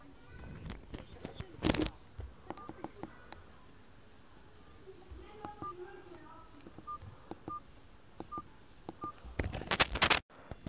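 Telephone dialing tones for a prank call: a series of short, clear beeps dialed one by one at moderate volume, mixed with soft handling clicks and rustles, with a louder clatter near the end.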